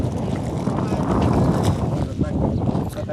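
Wind rumbling and buffeting a microphone outdoors on a cold, rainy day, gusting unevenly, with faint voices in the background.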